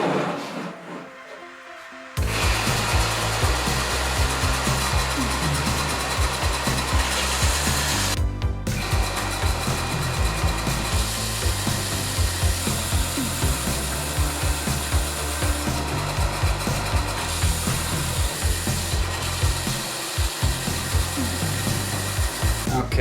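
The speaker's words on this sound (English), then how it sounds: "now I'm going to take it over to the belt sander" Continuous grinding and rasping of wood being sanded by a belt sander, steady and loud, starting after a brief quiet moment.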